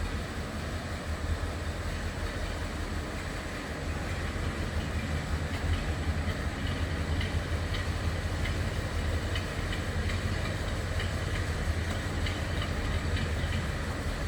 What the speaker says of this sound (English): Slip around behind so you can hear this run. Has that distinct flathead sound.